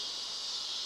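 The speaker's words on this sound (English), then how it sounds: "As you guys can hear the crickets going." Crickets chirp in a dense, steady high-pitched trill outdoors on a warm night, a constant faint drone running unbroken throughout with no voices.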